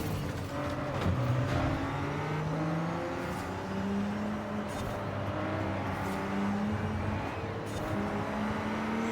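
A Nissan GT-R R35 engine in the Forza racing game, revving steadily with gliding pitch sweeps as it accelerates and shifts, a continuous moderate motor drone with no voices over it.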